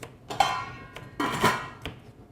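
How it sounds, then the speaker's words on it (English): A kitchen knife chops vegetable stems into pieces on a cutting board, several sharp, close knocks and clacks in an uneven rhythm, with no talking. "I'm going to cut these down a little bit so they cook about at the same rate as the flowers"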